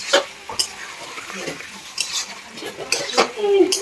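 Meat is sautéed in a pot with repeated scraping and clanking of a metal spoon against the pot over a light sizzle, close and irregular, with no voices.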